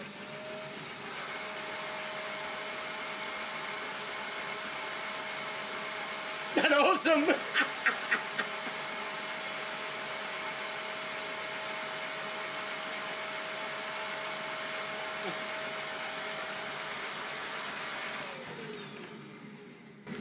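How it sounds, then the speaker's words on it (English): A vacuum cleaner whines steadily for a long stretch, with a brief burst of rattling clatter partway through and a voice briefly exclaiming before it winds down. "let's turn the vacuum cleaner on and watch it run for a bit"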